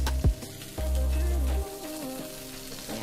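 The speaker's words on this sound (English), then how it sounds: "we are going to add our chopped up garlic" Four chopped garlic cloves hit a hot pan with browned meat for Chamorro oxtail soup, a steady close sizzle with a few stirring clinks and a low hum underneath.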